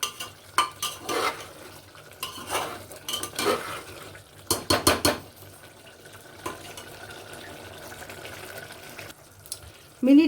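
Mutton rezala is stirred and sautéed in a pan, with bursts of scraping and clattering spoon-on-metal strokes separated by pauses, close and fairly loud.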